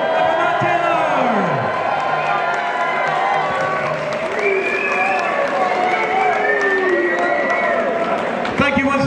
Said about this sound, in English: Round of applause once again, ladies and gentlemen, for Rob Marley and for Matt Taylor